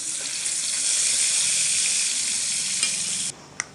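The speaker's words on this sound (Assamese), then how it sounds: "এনেদৰে মই গোটেইখিনি মাছে ভাজি ল'ম" Fish pieces fry in hot oil in a pan with a loud, continuous close sizzle that cuts off abruptly near the end, followed by a couple of light clinks.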